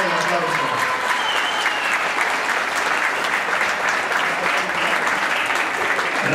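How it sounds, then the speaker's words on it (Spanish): Dense, sustained applause from a large crowd at a school graduation ceremony, steady and loud throughout with a few voices calling out at the start. "Fuerte aplauso"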